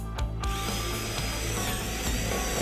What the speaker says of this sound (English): secure sheeting to purlin using a crest fixing roof screw